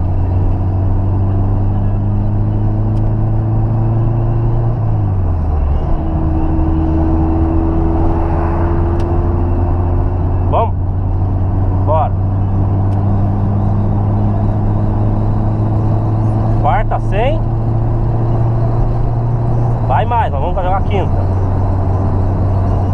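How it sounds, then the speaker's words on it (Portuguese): A square-body VW Gol fitted with a new carburetor pulls hard on a highway, its engine droning loud and steady with rising revs, a dip at a gear change, and the constant rush of road and wind noise. "vou fazer aquele vídeo lá do acelerando o golzinho pra nós ver qual que é"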